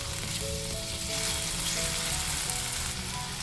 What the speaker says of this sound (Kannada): ಇವಾಗ ಫ್ಲೇಮನ್ನು ಹೈ ಫ್ಲೇಮಲ್ಲಿ ಇಟ್ಟುಕೊಂಡು ಆಲೂಗಡ್ಡೆ ಕೆಂಪಾಗೋ ತನಕ ನಾವು ಎಣ್ಣೆಯಲ್ಲಿ ಹುರ್ಕೋಬೇಕು